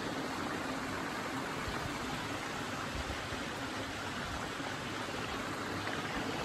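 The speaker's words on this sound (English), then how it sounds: "Beautiful waterfall here." A waterfall along the Appalachian Trail roars as a dense, steady broadband rush, close and loud without pause for the whole stretch, with no talking.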